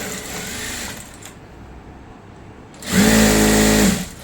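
Sewing machine stitching salwar pant pieces together, with a quieter run of stitching followed by a loud, steady burst of machine whirring near the end.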